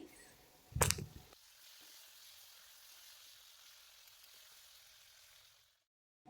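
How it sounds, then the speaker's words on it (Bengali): Potatoes coated in salt and turmeric fry in oil with a soft, steady sizzle after a brief loud burst near the start, fading out at the end. "এই যে দেখো আমি লবণ হলুদ মাখিয়ে এই যে আলুগুলোকে ভেজে নিচ্ছি"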